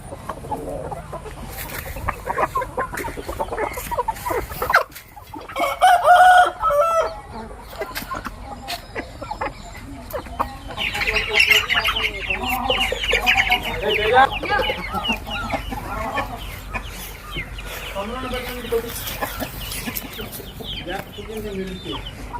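Roosters and chickens at a poultry breeding farm, with repeated clucking and a crow standing out amid general farmyard noise, while someone talks over them throughout.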